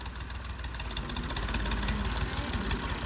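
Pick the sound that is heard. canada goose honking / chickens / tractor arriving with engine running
tractor arriving with engine running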